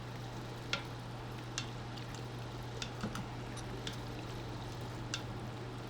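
Diced tomatoes with their juice are stirred into chili in an Instant Pot. Quiet, wet stirring and light clicks of the spoon against the pot sound over a steady low hum, with no talking.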